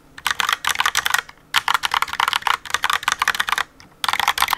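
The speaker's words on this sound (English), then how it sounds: "this is the keyboard that I usually use for work" Rapid typing on a Logitech Pop office keyboard, soft quick keystrokes in bursts separated by short pauses, close up and without speech.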